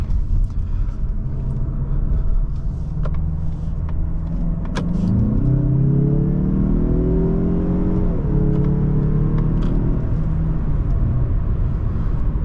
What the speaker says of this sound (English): The acceleration here is superb, great power, gets up to speed with absolute ease.